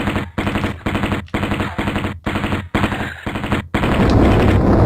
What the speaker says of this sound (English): the sound effect for the Uzis is less satisfying than the just continuous sound effect you get for the PlayStation and the PC releases